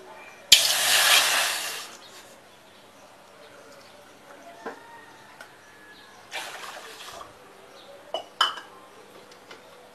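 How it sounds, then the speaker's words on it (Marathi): Two cups of water poured into a cooking pot, a short rushing splash lasting about a second and a half, followed by quieter clinks and small knocks of the pot. "इथे मी एक टोप घेतलेला आहे, त्या टोपामध्ये मी 2 कप पाणी घालते"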